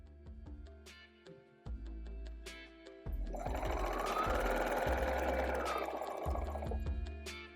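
A sewing machine stitches bias tape onto a quilted placemat, starting with short separate bursts and then running in one long steady whir before slowing to a stop, close and fairly quiet.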